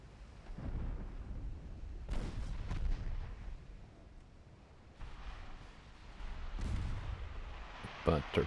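Naval guns fire in the video game Ultimate Admiral Dreadnoughts as warships engage enemy destroyers, with several heavy booming salvos rolling out at intervals over a low battle rumble.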